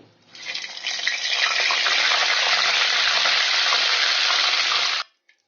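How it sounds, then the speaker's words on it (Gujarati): A spoonful of homemade butter hits hot oil in a pan and sizzles loudly, a dense, steady frying hiss that holds for about five seconds and then cuts off abruptly, with no voices. "તેલમાં આપણે 1 ચમચી બટર નાખી દઈશું."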